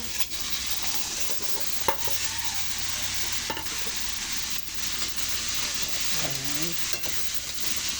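Garlic fries in a pan while cooking buttered crab, with a continuous sizzle and hiss broken by occasional scrapes and stirring clatter.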